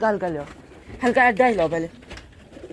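Soft pigeon cooing with warbling, wavering calls, close by, under someone talking in a low voice throughout.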